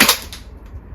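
One sharp, close snap from a VFC MP5 gas blowback airsoft gun fired on semi-auto in the cold, followed by a fainter second click and a low, quiet tail.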